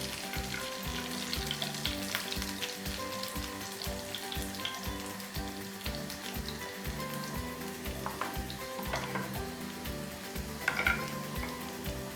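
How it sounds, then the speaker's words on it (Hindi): Tadka of whole red chillies and spices sizzles and crackles in hot oil with a constant frying hiss, broken by occasional stirring and a light metallic clink. "बस ऐसे ही तड़का होना चाहिए"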